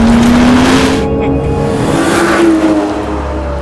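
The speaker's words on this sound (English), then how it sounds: "This is the Aston Martin Vanquish." An Aston Martin Vanquish drives past nearby, its engine note climbing steadily and then holding high with a loud, continuous roar and a hint of tyre noise.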